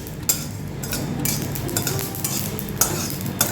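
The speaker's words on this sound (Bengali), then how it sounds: "ফটফট করে কিন্তু ফাটছে এবার।" Mustard and poppy seeds roast in a pan, with close, continuous crackling and sizzle punctuated by sharp pops and the scrape and clink of a stirring utensil, and no voices.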